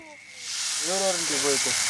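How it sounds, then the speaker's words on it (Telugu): A broad hiss swells up and holds steady as water is sprinkled on a hot dosa griddle, while a voice speaks briefly over the sizzle. "నేను నీళ్ళు చల్లాను కాబట్టి వస్తుంది ఇప్పుడు"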